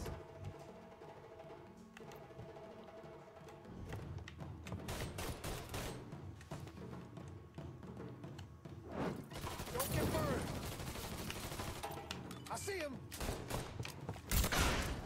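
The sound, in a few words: gunfire in the video game Mafia III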